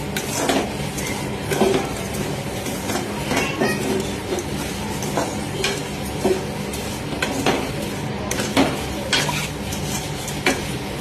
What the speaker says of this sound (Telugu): ఈ కప్ సేమియాని కూడా ఇలాగే నేతిలోని మనం లైట్గా ప్రీహీట్ చేసుకుందాము, ఫ్రై చేసుకుందాం.